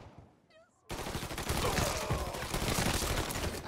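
Dense, sustained gunfire from a Mafia III shootout erupts after a brief quiet moment with a faint tonal whine, then continues loud and unbroken as overlapping automatic bursts and shots.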